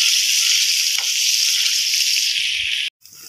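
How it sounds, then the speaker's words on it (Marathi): Paneer pieces and onion frying in hot oil for a kanda paneer bhaji, a steady loud sizzle that runs unbroken for most of the clip, then cuts out near the end with a few faint stirring knocks. "आता मी पनीरचे तुकडे याच्यात टाकणार आहे आणि मस्त फ्राय करणार आहे आणि कांदा सुद्धा मस्त फ्राय करून घेणार आहे।"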